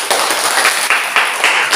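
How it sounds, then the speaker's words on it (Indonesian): Children clap their hands in a classroom, a dense, steady patter of many claps with a few louder bursts, filling the room at close range with no talk over it. "tepuk tangan."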